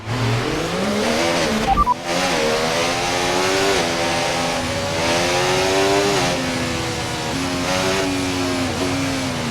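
A Formula 1 race car in a video game at the Miami circuit on a warm-up lap, engine loud and close, revving up through the gears with repeated pitch climbs and a brief skid or squeal early on.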